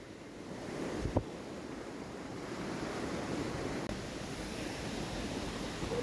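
Steady rushing roar of water at Daranak Falls in Tanay, Rizal, a continuous broadband wash with some wind on the microphone and no speech.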